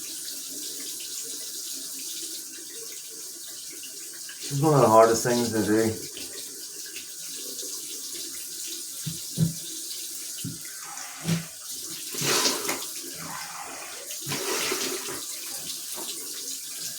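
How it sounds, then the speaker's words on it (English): A kitchen or bathroom tap runs cold water in a burst of splashing, followed by scattered drips, clinks and faint handling noises. A voice speaks quietly at the start. "and then let the water run really cold."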